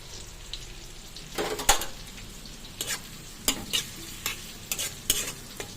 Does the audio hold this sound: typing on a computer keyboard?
no